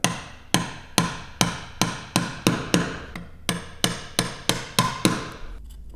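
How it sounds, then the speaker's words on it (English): Mallet blows on a chisel driven vertically down into a dovetail shoulder line: about fourteen sharp, evenly spaced wooden knocks, close and loud, with no talk. "chisel into that shoulder line, let it lock in place, and then hit it vertically down"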